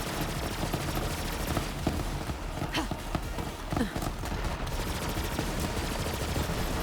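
In the shooter Borderlands 3, repeated grenade throws and rapid gunfire form a dense, busy battle mix of popping shots and blasts over constant background game noise.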